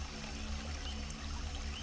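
Steady, continuous rush of falling water from a rainforest waterfall, even and unbroken throughout, with no voices.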